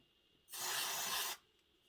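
A single steady aerosol spray hisses for just under a second, close and fairly loud, with quiet room tone before and after.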